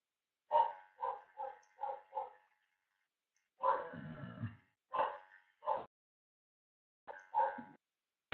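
A puppy in a home office gives short high yips and barks in quick runs, with a longer whiny whimper in the middle, close by and alone between silent pauses.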